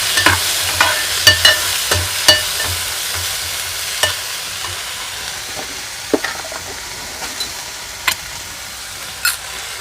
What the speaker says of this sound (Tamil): இப்போ நம்ம தக்காளியை போட்டு நல்லா வதக்கிக்குவோம்.